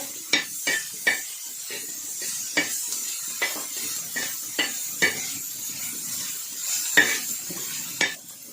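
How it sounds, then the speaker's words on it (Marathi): Onion sautés in a little oil, a continuous close sizzle punctuated by regular scraping strokes of a spoon against the pan. No voices are heard. "कांदा परतून घ्यायचा"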